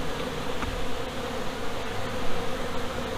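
Bees buzz steadily inside a hive where drones are hatching from the brood, a dense continuous insect drone at close range with no talk.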